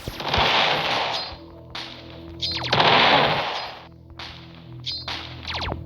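Gunfire in a Roblox game, heard as three loud bursts of rapid shots separated by short pauses, each burst harsh and crackling and close up with no one talking.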